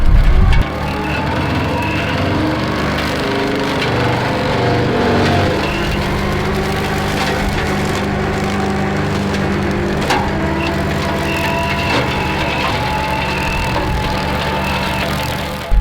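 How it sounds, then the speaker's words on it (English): A Spartan skid steer brush cutter mulches a felled tree, a loud, continuous engine roar mixed with dense wood-chewing and splintering crunches close at hand throughout. "we're going to show how we can mulch this tree up once you get it down on the ground"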